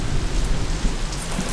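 Rain pours down in a dense, steady hiss, loud and close, with a low rumble underneath and no voices.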